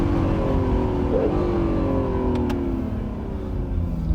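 A rebuilt, previously totaled Mitsubishi Lancer Evolution Final Edition accelerates from a standing start in second gear, its engine note climbing steadily and loud, close and continuous throughout.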